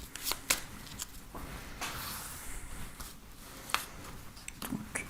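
Tarot cards are shuffled by hand before a reading, a quiet, close series of riffling and slapping bursts with a few sharp card snaps, and no speech.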